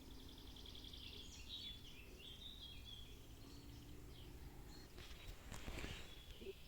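Birds sing and chirp faintly in a small wood by Żółtańce beach near Chełm, thin calls scattered over a quiet background with light rustling and steps.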